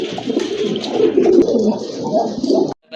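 Female pigeons coo in close, overlapping rolling murmurs, loud and continuous for most of the stretch before cutting off abruptly near the end.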